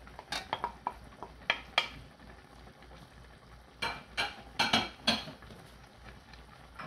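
Onion and green pepper being stirred in a pan for chicken fajitas, a series of close clinks and scrapes of a utensil against the pan over a faint sizzle.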